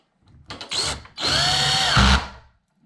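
A power drill drives hinge screws into a new door slab in two bursts, a short whirring run and then a longer, louder one that bogs down briefly near the end, close and with no talk over it.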